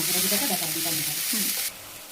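Spice masala with tomato and two chillies fries in a pan, a loud close hiss of sizzling oil that drops sharply in level near the end, with a faint voice underneath.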